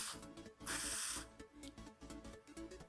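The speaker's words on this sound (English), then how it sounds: "we'll spray through some brake cleaner and look for an even spray" A sharp spray of brake cleaner through a BMW diesel injector nozzle hisses for about half a second, close and loud, then cuts off, leaving a quiet background with faint clicks.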